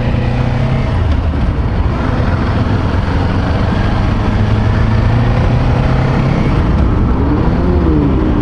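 Loud road traffic and engine drone roar steadily around a rider on a Kawasaki Ninja 400 heading toward Sokcho, with constant wind rush and no pauses.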